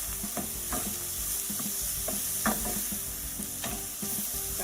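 Chopped courgettes sizzling steadily in a pan while being stirred, close up, with repeated scrapes and clacks of the utensil against the pan over a constant fry, and no talking.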